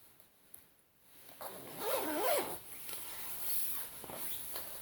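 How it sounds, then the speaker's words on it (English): A size 16 hooded coat is zipped up: a short, close rasping zip of about a second, set among faint rustling of fabric in a quiet room. "And we do the zip up."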